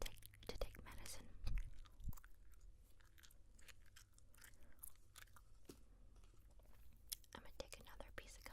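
Gum chewing with soft whispering, quiet and close, with intermittent moist clicks and smacks under the breathy whispered talk.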